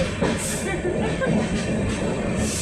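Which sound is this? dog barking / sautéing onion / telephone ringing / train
train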